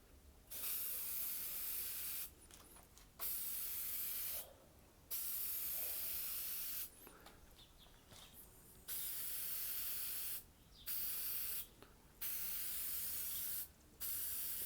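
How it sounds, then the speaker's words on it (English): An aerosol can of headlight coating sprays onto a car headlight in a series of hissing bursts, each lasting a second or two, separated by short pauses. "So let's spray this on and see how it looks."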